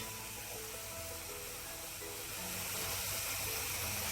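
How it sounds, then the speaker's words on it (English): Cabbage steaming in a pot on a stove, a steady, continuous hiss of steam that runs unbroken and fairly loud for the whole stretch, with no talking. "So I am checking on the cabbage, steaming it for 2 to 3 minutes."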